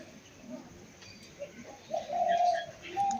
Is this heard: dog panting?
no